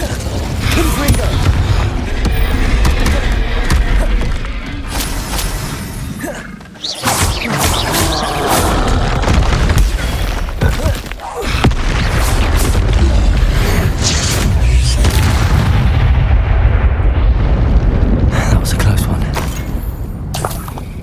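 Confringo fire-blast spells going off in Hogwarts Legacy combat, a run of loud booming explosions with whooshes and crashes stacked densely across the stretch, brief lulls between bursts, game music and effects underneath.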